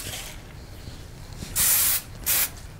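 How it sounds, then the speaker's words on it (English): Two short, loud bursts of hairspray, the first longer than the second, hissing sharply against a quiet room. "When you get everything where you want it, like I said, spray, spray, spray."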